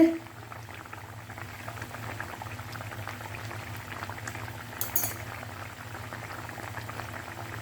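Thick tomato chutney bubbling and simmering steadily in a pan, soft continuous popping with a brief clink midway, no voices.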